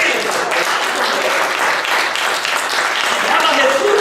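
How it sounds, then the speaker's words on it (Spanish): A church congregation applauds in steady, dense clapping that fills the room, with voices murmuring underneath throughout. "Denle un aplauso al Señor"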